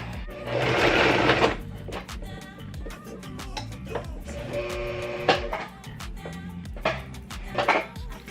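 Sewing machine stitching white thread through white bucket hat fabric, with bursts of fast mechanical whirring and rattling that start, pause and resume, close and fairly loud.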